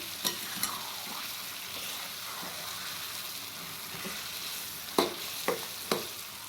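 Fish roe and masala are stirred in a hot pan, giving a constant frying sizzle with a few sharp scraping knocks from the spoon near the start and end.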